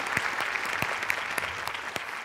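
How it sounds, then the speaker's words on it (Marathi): Steady audience applause at a Marathi comedy show, a dense wash of clapping with sharp individual claps poking through, moderately loud and continuous with no voices. "जोरदार टाळ्या"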